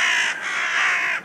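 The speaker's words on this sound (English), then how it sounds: "I have to honor these crows because they're so awesome." Crows cawing loudly and close by in a hilly outdoor area, a dense, continuous harsh chorus that barely pauses across the short stretch with no talking.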